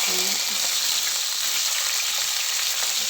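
Curry leaves and dried chillies fry in hot oil with a steady, bright sizzling hiss as they are stirred, the sound holding even and close throughout.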